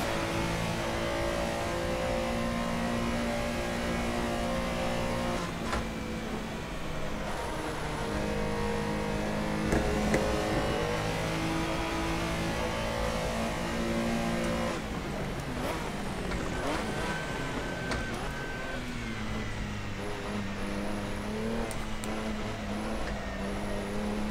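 A Porsche Carrera Cup race car engine roars in a sim racing game, revving up and down steadily through gear changes across a lap, with no one talking.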